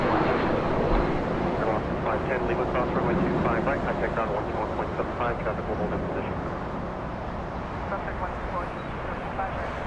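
A Boeing 747 airliner taxis at LAX with a broad, steady engine rumble and hiss in the distance, while someone talks over it throughout.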